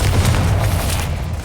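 A deep, rumbling blast from the Confringo fire spell in the game Hogwarts Legacy, heavy low boom sustained and slowly fading over a second and a half, with faint crackling bursts on top and no voices.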